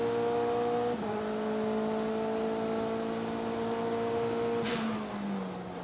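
A roughly 450-horsepower Saleen Cup race car engine holds a steady high whine on a front straightaway at Portland, then a brief sharp burst of noise as the wastegate pops and the pitch drops.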